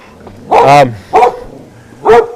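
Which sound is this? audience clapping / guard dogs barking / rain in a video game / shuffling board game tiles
guard dogs barking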